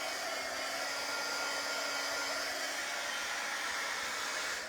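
A hair dryer blows steadily and close up, drying ink on a T-shirt, its even whooshing hiss and faint motor whine holding without a break from start to finish.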